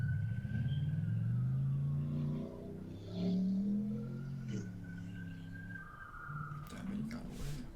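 A stolen truck rolling through a backyard past a swing set rumbles and revs steadily, its engine rising and falling loudly while a voice talks over it partway through.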